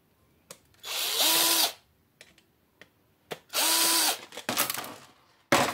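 A power screwdriver or drill whirs in two short bursts as it backs screws out of the plastic casing of an RCA television. Scattered clicks and handling knocks come between the bursts, and there is no talking.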